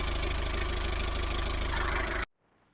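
A narrowboat engine freshly serviced with new oil and filters, idling with a steady loud low thrum and rhythmic knock, then cutting off abruptly into near silence.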